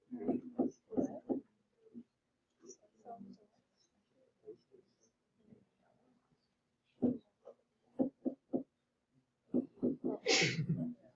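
A single sharp sneeze bursts out near the end of a math class, following stretches of quiet, scattered speech and murmuring in the room.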